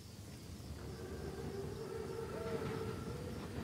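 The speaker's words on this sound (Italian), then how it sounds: "Il treno è puntuale. È un treno così grande. È così corazzato. È un Panzerzug." A massive armored German Panzerzug train in a World War II shooter game, heard as a steady low rumble with a faint wavering siren-like whine rising over it, continuous and moderately distant.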